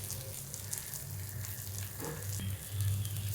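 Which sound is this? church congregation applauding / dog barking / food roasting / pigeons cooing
food roasting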